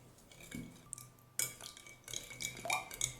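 Eggs and milk are whisked together in a bowl, with quiet clinks and taps of a utensil against the dish, growing busier and more rhythmic midway through.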